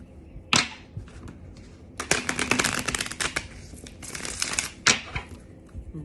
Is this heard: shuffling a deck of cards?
yes